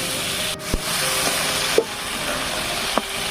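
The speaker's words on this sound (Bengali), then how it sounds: "তেল দিয়ে দিচ্ছি, দিয়ে সবগুলো মাছ দিয়ে ভালো করে ভেজে নিচ্ছি।" Fish fry in oil in a pan, giving a steady, even sizzle with a few sharp clicks and taps from the pan at irregular moments.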